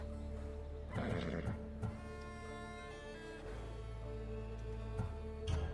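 Hades' horse in Assassin's Creed Odyssey gives a loud whinnying neigh over a steady low game ambience, with a few snorts and hoof sounds scattered between.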